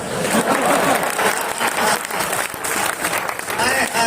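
Loud audience applause at a Hindi poetry gathering (kavi sammelan) in Kashipur, with crisp clapping that rises and dips in waves while a voice carries on over it.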